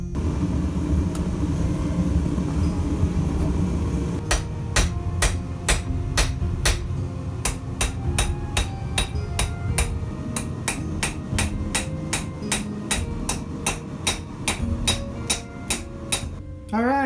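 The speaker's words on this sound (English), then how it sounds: "now I'm gonna forge in some bevels" Hammer blows forging bevels into steel pieces for a handmade treasure chest, a steady run of sharp, ringing metallic strikes over a low forge rumble, starting a few seconds in and continuing at a brisk, even rhythm.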